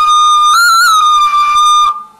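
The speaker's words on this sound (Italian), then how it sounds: "Vedi, questo è il fischietto" A terracotta Italian folk whistle (fischietto) is blown in one loud, sustained, steady piping tone of about two seconds with a slight waver, played on its own before it cuts off.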